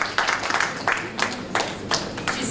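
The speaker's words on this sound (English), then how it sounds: "Rihanna Cozier from the Bethlehem Anglican a round of applause." An audience applauds at a primary schools' public speaking competition, a brief round of clapping from a modest crowd with distinct, uneven bursts of hands, heard alone without speech.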